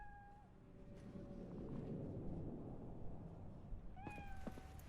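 Cat meowing in the video game Cyberpunk 2077, two short, clear meows a few seconds apart over soft, low game ambience, faint and close.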